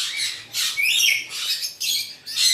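Pet birds in a bird house give harsh, close squawks in about five separate bursts, each roughly a third of a second long, with no voices.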